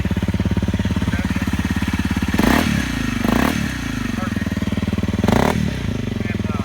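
A Honda CRF250L dual-sport motorcycle fitted with an FMF exhaust pipe idles with a steady, close putter, then blips the throttle three times in short rising bursts before settling back to idle; someone talks over it.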